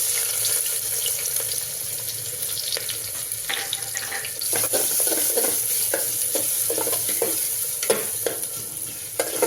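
Chopped onion tipped into two spoonfuls of hot oil for Dharashiv-style mutton rassa, sizzling steadily throughout with running water and clinks of stirring and utensils close by; nobody speaks.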